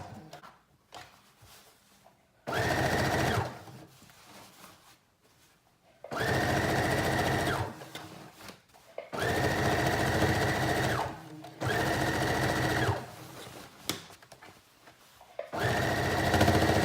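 A sewing machine understitches a high-waisted denim skirt in several loud bursts of fast, close motor whirring and needle clatter, separated by short pauses with quieter fabric handling.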